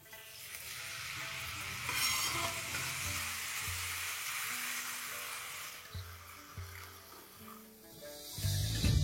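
Onion and tomato, boiled earlier, stirred into spiced fish in a kadai pan, giving a steady frying sizzle with scraping stir strokes throughout and a louder clatter near the end.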